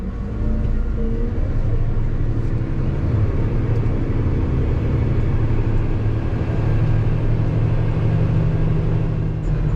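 A Claas Xerion 5000 tractor drives along with a loud, constant low engine rumble and drone that holds steady throughout, with no voices.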